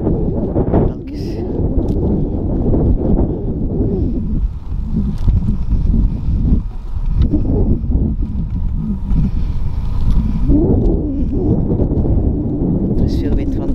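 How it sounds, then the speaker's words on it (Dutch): Strong outdoor wind buffets the microphone while cycling, a loud continuous low rushing roar with gusty swells, and people talk over it intermittently. "Er is veel wind vandaag."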